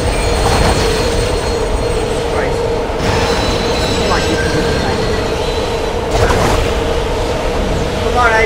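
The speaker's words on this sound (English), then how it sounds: "Get in that train" A train rumbling along in the video game Dead Space 2, with loud continuous rolling noise, metallic squeals and clanks from the wheels, and brief voices heard over the din.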